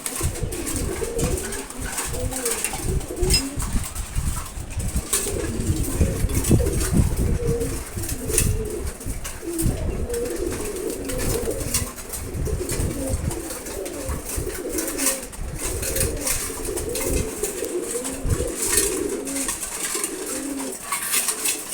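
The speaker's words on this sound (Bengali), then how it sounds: "সকালে কবুতরগুলোকে খাবার দিই সব কবুতরগুলি খাবার খাচ্ছে এখন" Pigeons coo steadily and overlap at close range while eating their morning feed, with soft rustles between calls and no talk.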